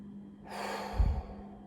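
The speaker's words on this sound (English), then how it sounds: "just breathe through your nose as easily as you possibly can" Slow, relaxed breath drawn in through the nose, a soft airy inhale building over about a second and ending in a brief fuller push, close and quiet with no talking.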